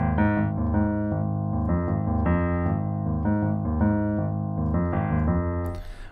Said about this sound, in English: I could have literally written the bass line from the Peanuts song, which sounds like this.